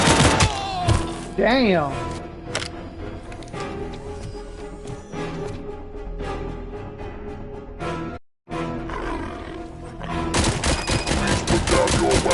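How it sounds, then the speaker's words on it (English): Gunfire from the ED-209 robot in a video game: a loud, dense fusillade of rapid shots and impacts running through most of the stretch, with a short drop in the middle and a voice speaking briefly over the barrage. "I am under attack from Ed 209."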